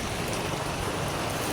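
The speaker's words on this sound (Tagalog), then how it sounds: "Masang ulan." Heavy rain pouring steadily during a roadside stop-over, a dense, loud, unbroken wash of noise with no pauses or voices.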